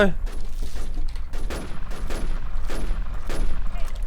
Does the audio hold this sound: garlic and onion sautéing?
no